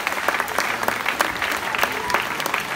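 Brisk applause from a crowd at a handball club's team presentation, steady clapping with sharp individual claps standing out, lasting the whole stretch.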